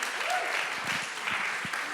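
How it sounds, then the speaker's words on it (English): Audience at a Pasadena City College music conversation event applauding, moderately close and fairly loud, with some murmuring voices mixed in over two seconds. "So a round of applause for all of them, please."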